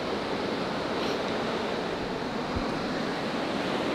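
Ocean waves break steadily on an Australian beach where surfers are out, a continuous loud wash of surf with wind, no voices.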